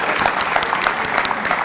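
Applause from a studio audience at a Turkish comedy show, dense continuous clapping throughout.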